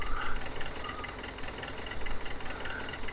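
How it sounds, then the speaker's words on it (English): A diesel tractor engine idling nearby, a steady low knocking rumble with slight rhythmic pulsing, running alone without voices. "so we'll get out of the tractor. We'll leave that running. It's only diesel after all."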